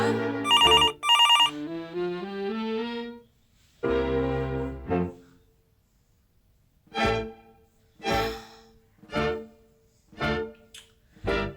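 A melodic electronic Messenger video call ringtone plays a rising run of tones, then repeats in short bursts with pauses, left unanswered.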